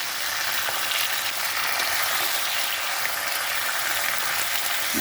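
Whole flat beans (shim) frying over raised gas heat in a pan, a loud steady sizzle that continues throughout, with occasional soft stirring scrapes.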